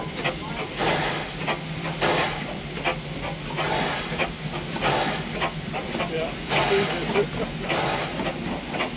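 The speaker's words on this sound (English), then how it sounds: "Ohio Locomotive Crane Company. Steam Railroad Crane." Steam railroad crane built by the Ohio Locomotive Crane Company hisses steadily and close up, with rhythmic chuffing bursts and mechanical clatter layered through the whole stretch, and voices faintly present.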